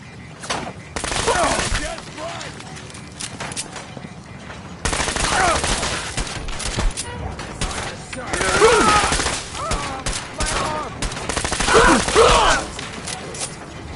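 Bursts of gunfire in Fallout: rapid volleys and automatic fire in clustered bursts, loud and close, separated by brief pauses with mechanical clicks, and a voice speaks between shots.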